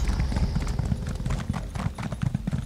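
Horse hooves clip-clop steadily and close up as a rider gallops on horseback in The Elder Scrolls Online, a continuous rhythmic thudding over faint game ambience.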